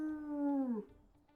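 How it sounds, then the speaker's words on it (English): A wolf in the video game WolfQuest lets out a single drawn-out tonal howl that slides downward and fades, clear and close, with no talk over it. "Let's listen to his howls."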